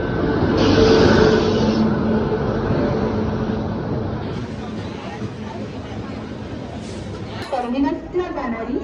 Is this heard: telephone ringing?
no